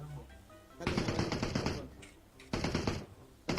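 Rapid automatic gunfire from PUBG Mobile, loud bursts of dense rattling shots in two long volleys with a short lull between and another burst starting at the end.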